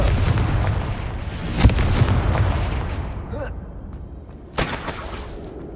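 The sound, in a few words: Confringo spell blast, from the video game Hogwarts Legacy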